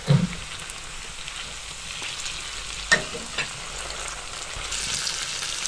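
Steady frying hiss of potatoes and onions cooking in a pan for a Spanish omelette, with a couple of soft utensil knocks.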